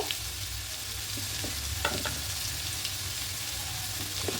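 Potatoes fry in a pan for a bottle gourd and hilsa fish head dish, with a continuous hiss and sizzle, a few stirring clinks, and a low background hum.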